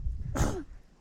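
A single sharp sneeze bursts out close by at a reservoir fishing spot, brief and forceful over quiet outdoor background.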